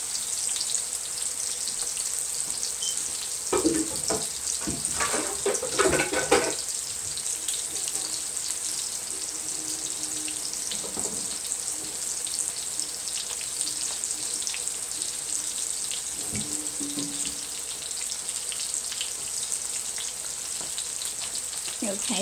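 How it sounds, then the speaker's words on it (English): Bacon cheeseburger patties fry in a pan with a steady, bright sizzle throughout, and a few louder clatters and stirring sounds come near the start and again midway. "Okay, so the burgers are cooking now."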